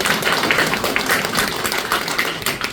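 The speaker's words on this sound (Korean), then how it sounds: "박수 한번 부탁드리겠습니다" Audience at a residents' briefing session applauds, a steady, moderately loud patter of many hands clapping throughout with no talk.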